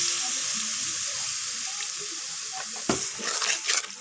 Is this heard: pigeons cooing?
no